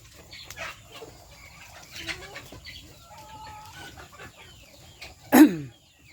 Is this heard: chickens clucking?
yes